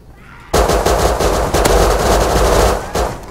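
Gunfire in the survival game Rust erupts suddenly and stays dense, a loud sustained volley of overlapping shots and cracks that rolls on for several seconds before easing slightly.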